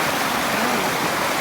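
Steady, dense rush of a forest waterfall in Glenariff Forest, Northern Ireland, with brown, cola-coloured water; loud and continuous with no gaps.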